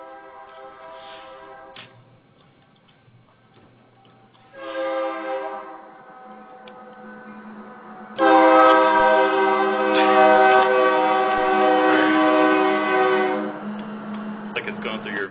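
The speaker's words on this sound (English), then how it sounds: "now I have a train coming by" A train runs past about fifty yards from an office window, its horn blaring in tonal blasts that grow longer and louder toward the end, under a steady rumble of wheels on track.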